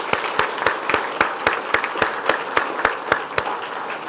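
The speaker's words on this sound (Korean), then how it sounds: "우리 박수 한번 합시다" Steady applause from a church congregation during a worship service, even rhythmic clapping filling the room without speech.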